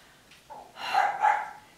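A dog indoors gives one drawn-out bark that rises into a doubled yelp, moderately loud and heard on its own without talk.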